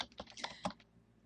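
Computer keyboard keys tapped in a quick, faint burst of several clicks while entering text into a database field, close and alone with no talk.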